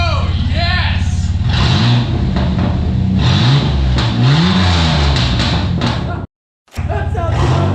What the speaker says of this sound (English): I straight piped it. I cut the exhaust off